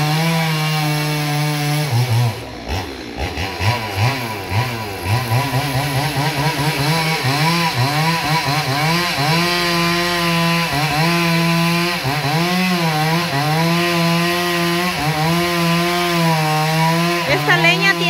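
A chainsaw engine roars loudly and continuously, its pitch rising and falling as it bites into firewood, close by with a brief dip early on.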